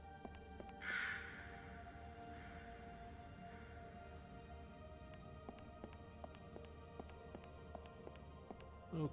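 A raven in the video game Lost Horizon 2 gives a single harsh caw near the start, set against a low ambient drone with light ticking taps that follow.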